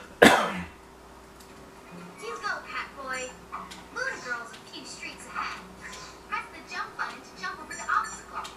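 Sharp cough bursts right at the start, loud and close, followed by a stretch of scattered chatter and small sounds.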